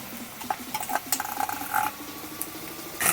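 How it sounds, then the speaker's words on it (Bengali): Ginger and garlic paste frying lightly in oil for a honey chilli potato dish, with a steady sizzle broken by scraping and clinking of a spoon against the pan, close and continuous. "তো ততক্ষণ আদা রসুনটা একটু হালকা ফ্রাই হয়ে যাচ্ছে তেলেতে করার সময়।"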